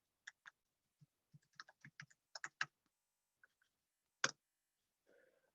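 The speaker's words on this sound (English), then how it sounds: "let me see if I can type something here" Keys on a computer keyboard clack in short irregular bursts, close and fairly quiet, with one sharper louder tap near the end and no talking.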